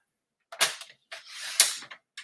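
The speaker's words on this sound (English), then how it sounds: "Good thing I have my trimmer here." A paper trimmer slices cardstock in two quick close passes, sharp scraping cuts each lasting a fraction of a second, separated by short pauses.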